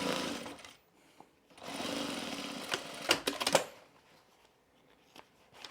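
A sewing machine back-stitching a quarter-inch seam, heard as faint, close bursts of rapid mechanical stitching separated by short quiet gaps, with a few sharp clicks toward the end.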